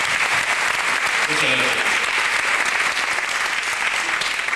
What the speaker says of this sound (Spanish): este pequeño aplauso, porque ustedes sí que son formidables